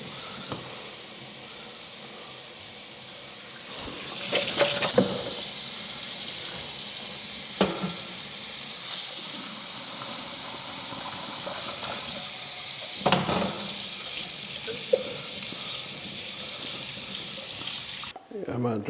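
Water runs from a newly installed bathroom faucet into a sink, a steady close splashing hiss with a few louder gurgles and clunks as the flow shifts, lasting nearly the whole stretch before stopping abruptly.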